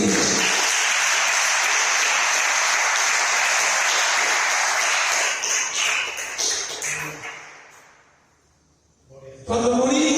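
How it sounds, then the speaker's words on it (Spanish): A church congregation bursts into loud, dense applause at a general meeting. It holds steady for several seconds, then thins into scattered claps and dies away. A brief burst of voices returns at the end. "Fuerte el aplauso a usted mismo"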